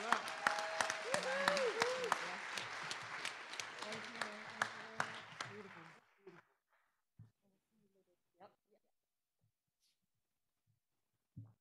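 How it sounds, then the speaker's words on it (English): An audience at a city council meeting bursts into loud, sustained clapping for about six seconds, then it cuts off into near silence broken by a few faint isolated knocks. "I love the invocations where folks cheer."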